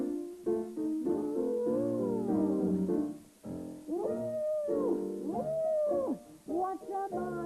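A voice imitating an elephant with long, wavering howl-like trumpeting cries, repeated in several loud bursts with short pauses between them, close and alone.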